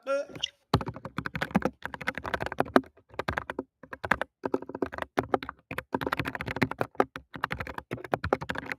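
Rapid, close typing on a computer keyboard comes in clustered bursts of sharp key taps separated by short pauses, with a voice talking over parts of it.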